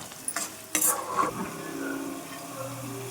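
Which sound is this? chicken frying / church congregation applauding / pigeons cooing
chicken frying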